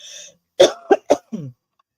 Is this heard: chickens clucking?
no